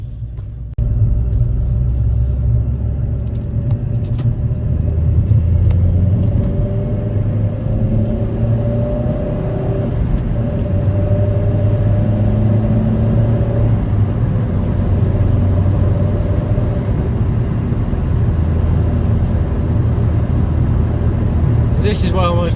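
A Vauxhall Corsa VXR cruises along a quiet road at night, its engine and road noise forming a steady low rumble with gentle rises in pitch, heard from inside the car while someone talks over it.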